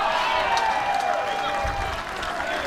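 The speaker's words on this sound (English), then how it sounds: "You could hear the roar there from the crowd." Crowd at a mixed doubles pickleball tournament roaring and applauding, a sustained wash of cheering and clapping with a commentator talking over it.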